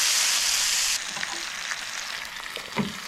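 A T-bone steak with chopped onion fries in a pan. A loud, bright sizzle drops suddenly after about a second, and quieter crackling continues with a few scrapes and clinks.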